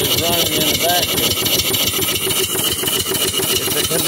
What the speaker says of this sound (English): It's a condensing engine